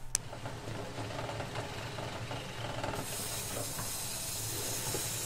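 Beef tongue boiling in a covered pot gives a steady bubbling simmer with a hissing, steamy wash that grows brighter and louder partway through, close and continuous with no talk.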